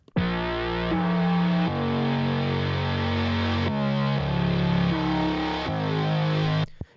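A heavily distorted sine-wave chord synth from an electronic dance track plays alone, with thick sustained chords that shift through several changes before cutting off abruptly.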